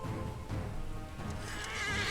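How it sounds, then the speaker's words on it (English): Horse in the video game Pathfinder: Wrath of the Righteous neighing as it runs, a short whinny with faint hoof clatter, moderately quiet within the game's background sound. "Look at Horse Keks running away from Sela."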